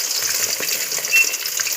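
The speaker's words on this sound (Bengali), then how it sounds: "ওই ভাজা তেলটাতেই মাছগুলোকে একটু ডিপ ফ্রাই করে নিচ্ছি" Rohu fish pieces coated with salt and turmeric deep fry in hot oil left over from frying onions, giving a steady close crackling sizzle with no voices.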